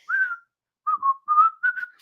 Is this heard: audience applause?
no